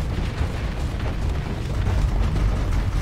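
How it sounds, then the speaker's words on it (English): Ship explosions in a Starsector space battle come as a continuous roar of deep booms and bursting blasts, loud and low-heavy, with no pause across the few seconds. "Things are blowing up."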